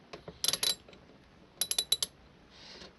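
A ratchet undoes a Torx E8 steering wheel bolt on a Ford Fiesta. Two close, crisp bursts of rapid clicking sound in an otherwise quiet space.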